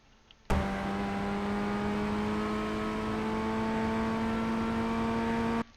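A Ray FF1600 race car engine in the iRacing sim at Road America, a loud, steady, buzzing drone that starts abruptly and holds an even pitch for about five seconds before cutting off.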